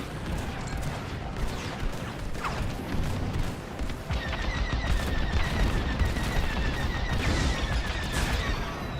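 Laser cannon fire crackles in a Star Wars Squadrons space dogfight, with rapid bursts of shots over a constant engine roar and a repeating high electronic tone in the second half.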